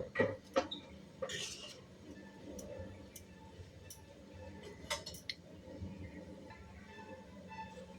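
A spoon stirs moong dal with sugar in a pot, scraping and knocking against the metal in scattered, faint taps and clinks over low kitchen background.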